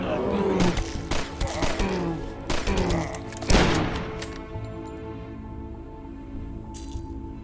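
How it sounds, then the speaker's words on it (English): Riveter rocket launcher firing Gatling rockets in the game DUSK, a rapid series of sharp blasts with metallic clinks, ending in one louder explosion, then fading into ringing tones and game music. "use the Riveter, which is what I have now, and is, like, a rocket launcher, you're firing Gatling rockets"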